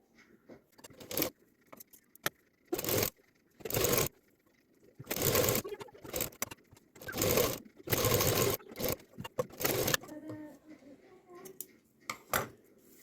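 A sewing machine runs in short repeated bursts, stitching lace onto a homemade potli bag, with pauses and handling noises between runs and a voice speaking at times.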